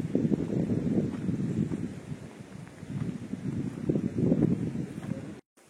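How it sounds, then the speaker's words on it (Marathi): Strong gusts buffet the microphone on a mountain trail toward Bhairavgad, rising and falling in heavy low rumbling waves before cutting off abruptly at the end. "आणि इथे वारा भरपूर आहे."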